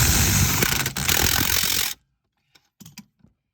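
A ratchet tightens brake booster bolts on a 1999 GMC Sierra 1500, giving a loud, steady clicking burst close by, followed by a few faint scattered clicks.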